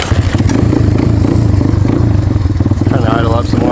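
Honda XR200R motorcycle engine on a cold start with full choke, revving loud and close in a steady throbbing roar that fluctuates as the throttle is blipped, with voices talking over it.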